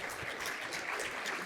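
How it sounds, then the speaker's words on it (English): Plenary session audience claps steadily in a brief, even burst of applause that holds at constant loudness throughout. "Can we clap for these guys?"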